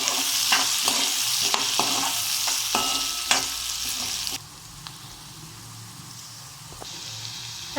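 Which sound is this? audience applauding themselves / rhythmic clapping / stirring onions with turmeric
stirring onions with turmeric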